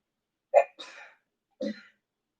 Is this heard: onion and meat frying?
no